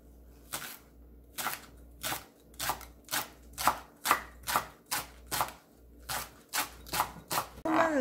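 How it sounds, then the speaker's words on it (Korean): A knife thinly slicing green garlic stalks on a cutting board, about fourteen crisp, evenly spaced chops at a steady rhythm, close and clear with no talking. "폰마늘 2개 송송 썰어줍니다."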